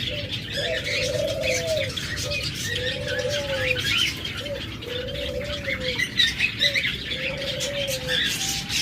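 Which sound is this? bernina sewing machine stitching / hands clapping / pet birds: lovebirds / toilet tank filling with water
pet birds: lovebirds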